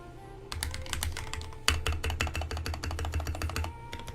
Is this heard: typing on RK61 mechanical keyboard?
yes